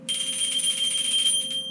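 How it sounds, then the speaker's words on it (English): A small bell tinkles somewhere inside a house, giving a bright, shimmering ring that lasts under two seconds and heard alone. "A bell tinkled somewhere in the house."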